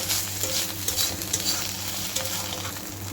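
Ginger garlic paste and chili sautéing in a pan, a continuous close sizzle with stirring scrapes and soft spatula knocks throughout.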